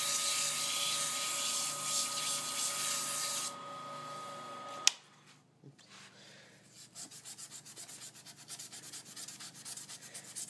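A wooden pen blank spinning on a lathe at 1800 RPM is sanded with 220 grit paper, giving a steady close rasping hiss that stops abruptly with a knock, followed by faint scattered rubbing and ticking.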